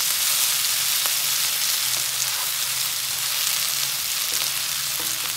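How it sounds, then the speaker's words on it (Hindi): Chopped bell peppers fry in a hot pan while a crispy chana chilli is cooked, a constant close crackling sizzle with occasional soft clinks of a utensil and no voices. "हम अभी इस शिमला मिर्च ऐड कर देंगे एक मिनट के लिए, उन्हें ही पका लवेंगे।"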